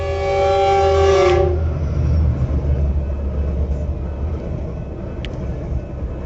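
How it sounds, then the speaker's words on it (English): A train speeds past a level crossing, its horn blaring loudly at first before cutting off, leaving a heavy rumbling roar of rail cars rolling by close at hand. "The train sped by,"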